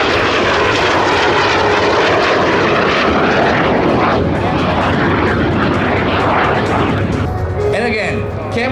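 Frecce Tricolori solo jet flying an inverted pass at the Cold Lake Airshow, a loud, continuous roaring engine blast that swells and sweeps past up close, dominating the scene throughout.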